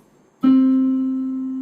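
A single piano note, middle C, struck once after a moment of near silence, ringing clearly and slowly fading.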